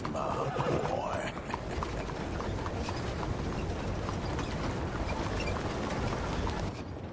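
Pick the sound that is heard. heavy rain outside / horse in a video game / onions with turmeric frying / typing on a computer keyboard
horse in a video game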